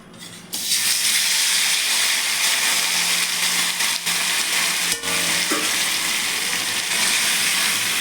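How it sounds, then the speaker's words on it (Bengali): Raw khoira fish hit hot oil with a sudden loud burst of sizzling that then holds as a strong, steady crackling hiss close by, with only slight dips. "তেলটা গরম হয়ে গেছে, এবার আমি মাছগুলো ছেড়ে দেবো"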